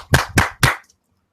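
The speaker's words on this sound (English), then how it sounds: "I think you deserve a round of applause" Three quick, crisp claps in a short burst, close and loud, then abrupt silence.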